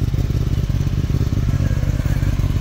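A 2024 Kawasaki ZX10R inline-four with an Akrapovic slip-on exhaust runs loud and close, a dense low engine note with slight surges in a throttle blip, heard alone without voices.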